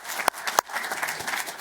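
Audience clapping for a speaker at a microengineering school event, a couple of sharp claps followed by a rising patter of scattered applause from a modest crowd, fairly quiet.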